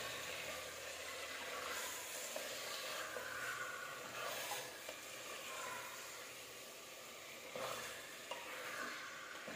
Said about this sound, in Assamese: মাংসখিনি দি অকণমান ভাজিব লাগিব এতিয়া